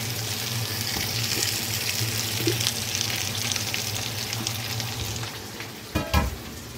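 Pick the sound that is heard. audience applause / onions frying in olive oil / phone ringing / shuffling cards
onions frying in olive oil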